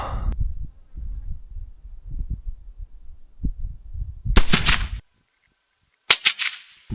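An 1892 Winchester .25-20 rifle loaded with a cast bullet fires one sharp, loud crack after a stretch of low rumbling, and another brief sharp burst follows a second later.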